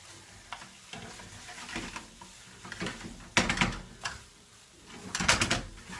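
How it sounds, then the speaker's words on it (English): Beans being stirred into a sausage bean risotto in a pan, a wet scraping and squelching mix with soft sizzling underneath, coming in several close uneven strokes with no talking. "Quarter of beans, mix them into the risotto."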